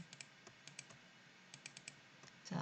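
Soft, scattered clicks of computer keyboard keys and mouse buttons during image editing, quiet and irregular, singles and quick pairs with short pauses.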